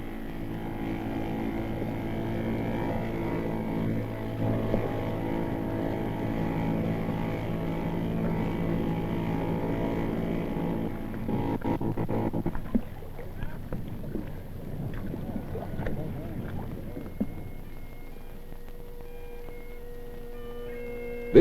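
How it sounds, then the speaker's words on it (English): A rubber dinghy with an outboard motor drones with a steady engine hum and wind rush for about twelve seconds, then the motor cuts out, leaving softer water and wind sounds. "Everything and everyone is piled into a rubber dinghy with an outboard motor."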